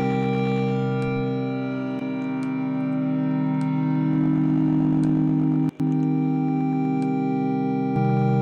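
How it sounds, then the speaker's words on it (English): Ambient synth patch built from Sha# Bang! modules, a sustained harmonic drone with a reverb tail, holding steady and fairly loud throughout with a few faint clicks and one brief dropout. "Now let's add a reverb."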